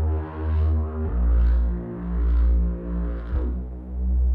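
A deep, sustained synth bass line with long held low notes that swell and pulse, playing alone and filling the low end steadily.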